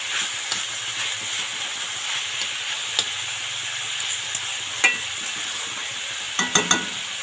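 Sliced radish sizzles steadily in a pan, a continuous hiss broken by scattered pops and a cluster of clinks and scrapes near the end.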